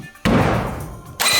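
A sheet metal panel being tapped into place on a school bus conversion: one loud, close impact that rings and decays, then a second strike starting just after.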